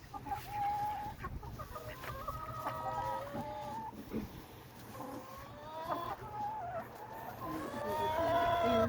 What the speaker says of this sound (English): Little white hen right there.